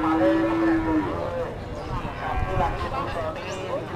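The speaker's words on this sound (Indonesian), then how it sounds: "Coba nih, ini ada sapi bibitan keren, guys. Ini ada limusin." Limousin cattle moo at the Ngulakan cattle market in Pati, one loud drawn-out low call opening the scene before market chatter and voices take over.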